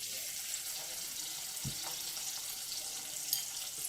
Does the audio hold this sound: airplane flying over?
no